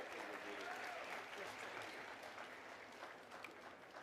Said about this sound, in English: Let's give a round of applause to our senator.